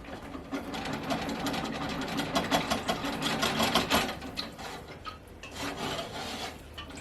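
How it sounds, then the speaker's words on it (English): Whisk stirring a cornstarch mixture in a cooking pot for egg drop soup makes quick, uneven scraping and rattling strokes up close, briefly easing off near the end before picking up again. "let's get a whisk and go ahead and get the cornstarch and everything mixed in."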